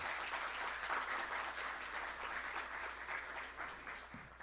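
Audience applause for a genealogist and historian giving an evening lecture in Baní, a steady wash of many hands clapping, fairly faint and distant, sustained throughout without a break.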